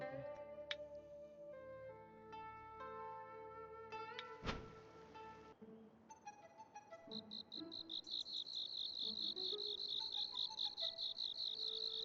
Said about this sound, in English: Generally, the higher a cricket's tier is, the louder it chirps